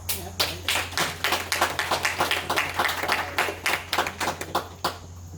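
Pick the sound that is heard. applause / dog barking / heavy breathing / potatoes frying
applause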